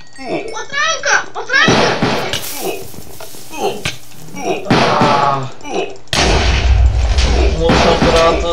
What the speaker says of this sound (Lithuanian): Patranka!